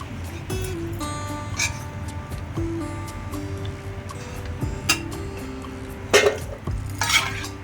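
Papdi crisps frying in hot oil, a steady low sizzle with occasional clinks of a utensil against the pan and brief louder crackles as pieces are lifted out.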